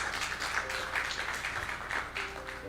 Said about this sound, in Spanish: Dale un aplauso a Cristo por un valiente.